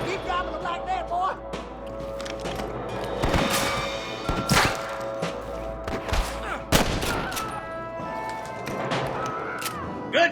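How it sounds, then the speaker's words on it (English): Gunfire in the video game Red Dead Redemption: a ragged fusillade of sharp shots, some close and loud, others scattered, with shouting voices and other game sounds underneath. "Good shooting, boy!"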